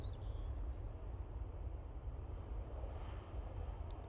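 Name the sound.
Airbus A319 landing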